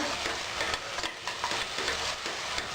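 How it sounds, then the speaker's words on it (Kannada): Beetroot palya with green gram and green chillies being stirred in a pan, a steady soft scraping and sizzling texture running continuously and fairly close throughout, with no voices. "ಇದನ್ನು ಚೆನ್ನಾಗಿ ಮಿಕ್ಸ್ ಮಾಡ್ಕೊಳ್ಳಿ."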